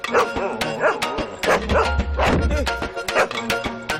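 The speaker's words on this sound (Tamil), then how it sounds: "இங்க ஒரு கொலவெறி பிடிச்ச நாய் இருக்கடா உள்ள" Dog barking and yipping repeatedly in a tense indoor scene from a Tamil film, sharp loud barks recurring throughout, with busy background sound and music underneath.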